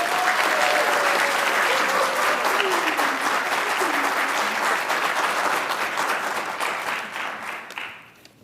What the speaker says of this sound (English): please join me in a round of applause for Second Lieutenant Adria Ville